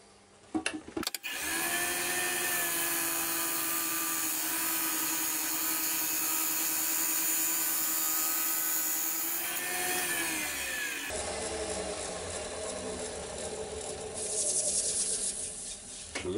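A wood lathe spins a big walnut bowl as a turning tool rides its bevel, giving a steady, loud whirring drone with a rough cutting hiss that runs continuously, then shifts in tone near the end.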